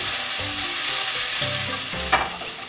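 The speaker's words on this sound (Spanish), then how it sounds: "Agrego las habichuelas que han sido previamente colocadas en agüita hervida" Blanched green beans sauté on a hot griddle with a steady, close sizzle and a brief stirring scrape near the end.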